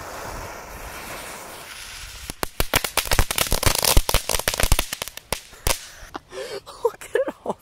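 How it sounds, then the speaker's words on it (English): A rapid burst of sharp crackling pops from small crackling ball fireworks in the evening, dozens of snaps in quick succession over light wind, then scattered pops trailing off. "Okay, three crackling balls at a time."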